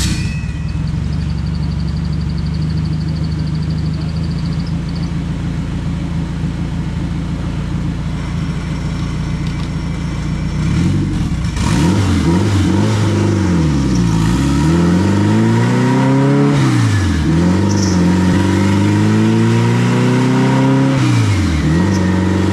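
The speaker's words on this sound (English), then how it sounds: "we got it strapped on dyno now and about to start making our first pulls" A car engine with a swapped intake manifold revs on a dyno: first a steady idle, then a series of hard, loud pulls rising and falling in pitch, close up and without talk.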